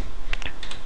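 Several quick keypresses on a computer keyboard as a short date is entered, crisp close clicks spaced unevenly with no voices.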